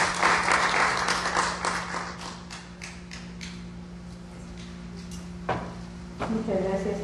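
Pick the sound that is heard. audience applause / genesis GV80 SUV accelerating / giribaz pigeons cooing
audience applause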